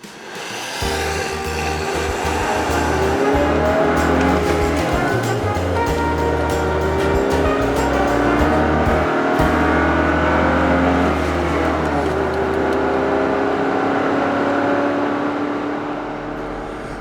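A Toyota Prado accelerates, its engine giving a steady, close droning hum that builds and holds for most of the run before easing off at the end.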